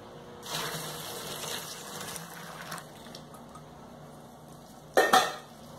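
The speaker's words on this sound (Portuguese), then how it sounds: "Vamos bater mais." Liquid soap made with boiling water is beaten in a basin, giving soft sloshing and scraping for a few seconds, then a sharp clatter near the end; quiet and close, with no voices.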